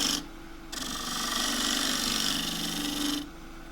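A half-inch spindle gouge cuts a rounded bowl of green pistachio on a wood lathe, giving a steady, close, loud scraping hiss with a low hum underneath that starts and stops abruptly.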